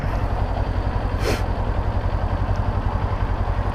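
A motorcycle engine with an aftermarket exhaust throbs steadily with a deep, pulsing exhaust rumble, continuous and fairly loud, with no one speaking.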